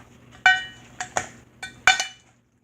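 Cutlery clinking against a bowl while bruschetta ingredients are mixed, five distinct sharp clinks in an irregular rhythm, close and fairly loud, with no talking.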